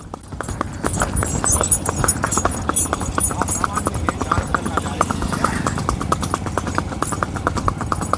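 A Sindhi mare walking with a steady, even clip-clop of hooves, close and crisp, while a voice urges her on.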